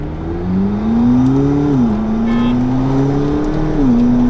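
A powerful British twin-turbo V8 in a mid-engine supercar revs loudly up and down in smooth rising and falling sweeps, close and continuous, with no talking.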